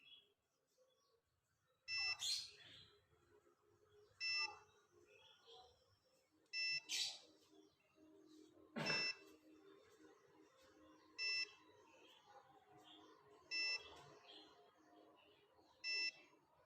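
An egg incubator's buzzer alarm beeps in short, sharp electronic bursts, about seven of them spaced roughly two seconds apart, over a quiet room hum with faint background noise.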